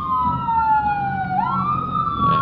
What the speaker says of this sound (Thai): แต่มีรถดับเพลิงมามีรถดับเพลิงมานะครับที่ซอย40